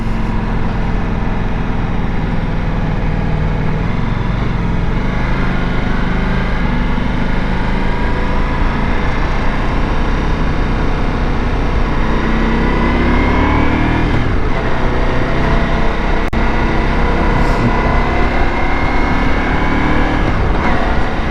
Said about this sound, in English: I don't mind getting into the throttle a little bit here